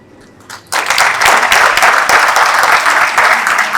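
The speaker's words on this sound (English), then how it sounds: "Round of applause." An audience at the close of an IEEE panel session breaks into sudden, loud applause that sustains as steady dense clapping after a brief quiet moment.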